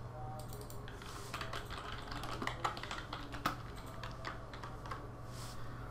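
Quiet typing on a computer keyboard: a soft, uneven run of key clicks against a low background hum, with no speech.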